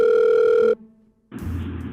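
A steady telephone tone on a call, a brief near-silent gap, then a harsher ringing or line tone that carries on to the end; loud and close, no voices.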